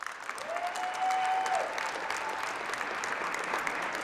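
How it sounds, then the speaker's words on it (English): Graduates and audience at an adult basic high school equivalency graduation ceremony clap in steady, sustained applause filling a large room, with a faint tone briefly sounding early on. "Graduates, give a big round of applause to the instructors, staff, managers, testers, coaches, volunteers who have helped you along the way"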